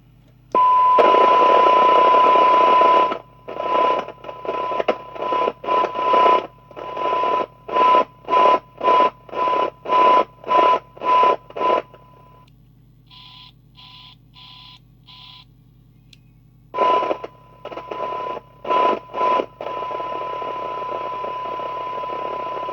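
A radio receiver tuned to channel 20 picks up a signal generator: a steady tone gives way to a run of rhythmic pulsed bursts, then thin high beeps, then more pulses and a constant tone, all fairly loud with no talking.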